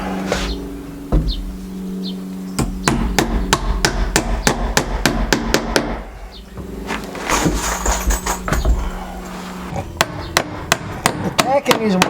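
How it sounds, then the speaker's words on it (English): A hammer drives roofing nails through the vinyl flange of a window on a log cabin build, delivering crisp, loud, close strikes in quick rhythmic bursts with short pauses between runs. "Attacking these windows with the roofing nails, you want them snug."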